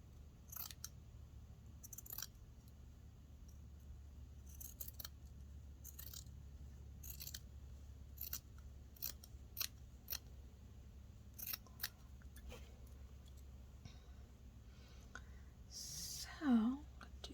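Sharp scissors snip a woven scrap piece in a quiet room, a dozen or so crisp, close cuts spaced irregularly, with soft handling noise and a brief scrape near the end.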